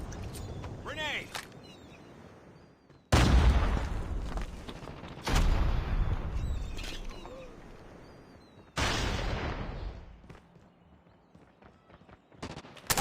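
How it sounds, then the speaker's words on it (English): Call of Duty Mobile ranked multiplayer combat brings a grenade explosion and gunfire as three sudden heavy blasts several seconds apart, each fading slowly. In-game voice callouts and scattered small noises sit between them. "Grenade!"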